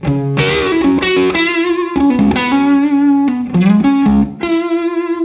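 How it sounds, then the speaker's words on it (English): Electric guitar played through a Morgan MVP23 amp with a 2x12 cabinet, giving a compressed, rounded overdriven tone as a melodic phrase of sustained notes and quick runs. "It's got a nice rounded sound, nice and compressed."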